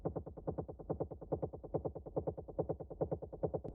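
A dark techno sample layer, made from retro sound effects and run through a DAC plugin that pumps like a kick sidechain, throbs in a steady fast rhythm of gated distorted pulses, with no voice.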